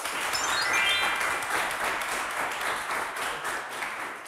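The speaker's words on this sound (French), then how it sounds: "Ça mérite également qu'on applaudisse." On a quiz show, audience applause fills the moment as a thick, steady clatter of many hands, with bright sparkling chime tones layered on top near the start.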